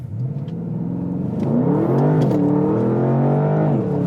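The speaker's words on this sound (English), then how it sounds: "You get the sound of the engine and the snap, crackles, and pops." A 2021 Porsche Panamera GTS engine revs up loud and close, its pitch climbing steadily under hard acceleration, briefly dipping at a gear change before rising again.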